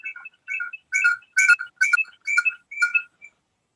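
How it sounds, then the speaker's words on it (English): A pet bird chirps in a room, giving a series of about eight short bright whistled notes in an irregular rhythm, close and clear against silence. "You have a bird."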